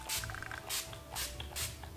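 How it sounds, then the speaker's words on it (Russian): A Korean setting spray misted onto a face, heard as four short, even hissing bursts evenly spaced over a couple of seconds, close by and quiet. "Такое приятное легкое распыление."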